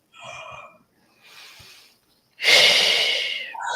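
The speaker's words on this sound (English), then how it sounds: "Breathing deeply in." Deep breaths during a guided breathing exercise, close to the mic: a soft exhale, a quieter inhale, then a long, loud, rushing breath.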